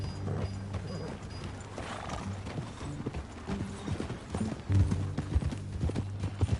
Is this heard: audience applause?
no